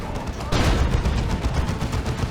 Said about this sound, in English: Getting hit now by the las cannon